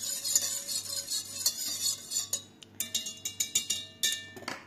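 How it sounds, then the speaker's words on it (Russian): A spoon or whisk stirs kefir, milk and yeast in a bowl for pirozhki dough, making a run of quick clinking taps against the sides that speed into a rhythmic series near the end, close and fairly quiet. "Все хорошенько размешиваем"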